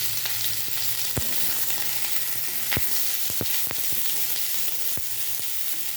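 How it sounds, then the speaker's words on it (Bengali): Vegetables for niramish lau shak frying in a pan, a steady soft sizzle with sharp clicks and taps of a spatula scattered throughout, close and free of talk. "সবজিগুলো একটু হালকা হালকা মিনিট খানিকের মতো, মিনিট 2-1 মতো এগুলোকে একটু ভেজে নেব"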